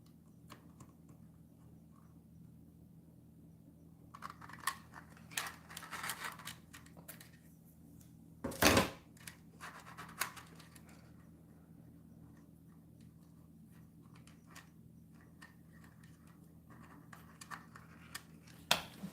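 Quiet clicks and snips of scissors working during circuit bending on a toy musical sword, with scattered small taps and one louder burst of rustling midway, over a low steady hum.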